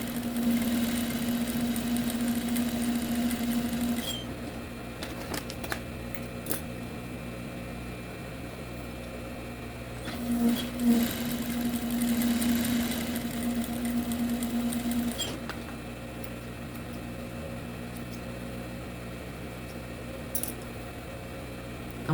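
A sewing machine stitches fabric in two steady bursts of rapid, even running, separated by a quieter pause with small handling noises, recorded close by.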